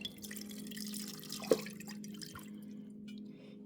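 Faint water trickling and dripping as oranges are rinsed in a bath, with a low steady hum underneath and one brief louder splash in the middle.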